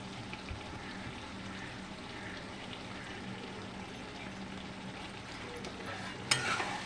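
Ginger paste fries and sizzles in a pan while being stirred, an even, moderate hiss throughout with a sharper scrape of stirring near the end.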